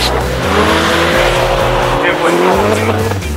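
BMW and Audi cars launch down a drag strip, one of them a turbocharged 400bhp BMW E30, giving loud engine roars that rise and fall through quick shifts, with a rasping, crowd-level din and possible tire noise.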